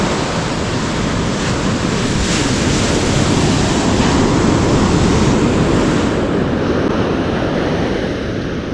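Strong wind roars steadily and loudly across the microphone outdoors just after heavy rain, a dense continuous rushing with slight swells and no voices.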